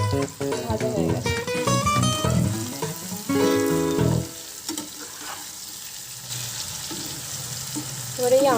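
Mango pieces frying in hot oil for aam kasundi, a loud steady sizzle under clinking and stirring, with some tonal musical sound layered over the first half.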